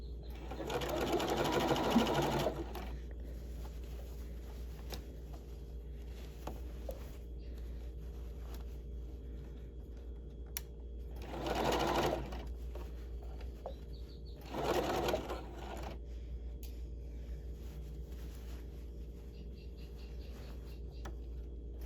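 A sewing machine stitches a fabric facing in three short bursts of fast, rattling whirr, the longest at the start, separated by quiet pauses with a low steady hum.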